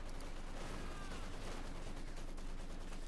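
Company of Heroes 2 battle audio with distant mortar blasts and rattling gunfire under a dense, continuous wash of combat noise, fairly faint and unbroken.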